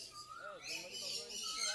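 Caged songbirds and cockatiels twitter and chirp at a Garia bird market, a busy mix of overlapping calls rising and falling through the short stretch.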